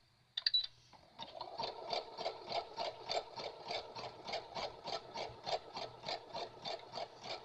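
A sewing machine stitches a zigzag stitch around a motif on fabric, running as a steady, fast rhythmic chatter of evenly spaced needle strokes after a brief start-up clunk, close and alone.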